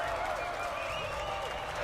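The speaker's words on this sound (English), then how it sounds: "We have some cheer sounds" Crowd cheering sound effect for an arena pit scene in a tabletop game session, a brief dense wash of massed voices and clapping heard at steady moderate loudness.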